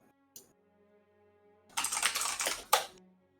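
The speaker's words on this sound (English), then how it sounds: "You can hear Patience typing his response angrily." A mechanical computer keyboard clatters in a fast, dense burst of keystrokes lasting about a second, preceded by a lone click and ending with a sharp final tap, close and fairly loud.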